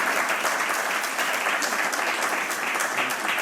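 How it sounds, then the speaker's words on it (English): Conference audience applauding, a dense, steady clapping from a large crowd that stays loud and even from start to finish. "He already got a big applause, but please do it once more."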